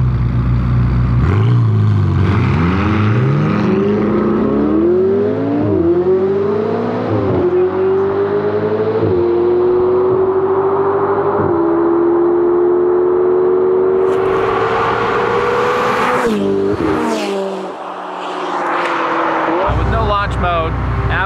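A McLaren 570S and a Ferrari 488 GTB launch in a drag race, loud engines winding up in a long rising howl through shifts before cutting off abruptly, with a brief burst of voices and noise near the end.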